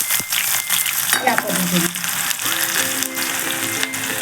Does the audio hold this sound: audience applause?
no